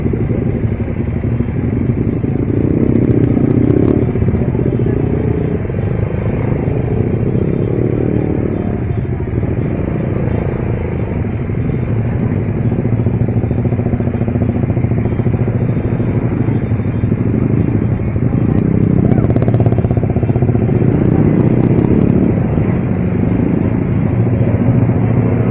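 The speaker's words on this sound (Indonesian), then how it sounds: "Ada yang digeber, nggak tahu motor apa." Motorcycle engines rev continuously during a street celebration of Persib supporters after a championship win, a loud droning roar with clattering surges that stays dense and close throughout.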